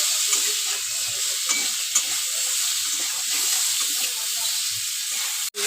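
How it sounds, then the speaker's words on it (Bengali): Spices with turmeric powder and salt fry in a pan, giving a steady, moderate sizzle and hiss with faint stirring scrapes, close and without talk. "আমি একটু ভালো করে ভাজা ভাজা করে নেব।"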